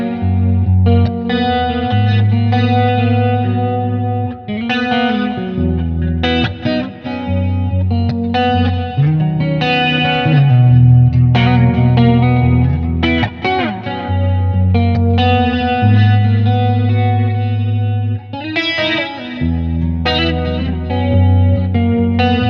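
Electric guitar played through a Helix Stadium amp modeller with heavy distortion and modulation effects, chords and riffs ringing out with reverb, continuous and fairly loud, no talking.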